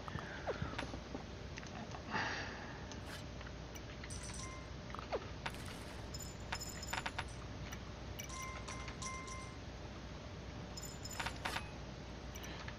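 A horse in the video game Kingdom clip-clops in steady hoofbeats with an occasional neigh, mixed with metallic coin jingles over an even background of game noise and no speech.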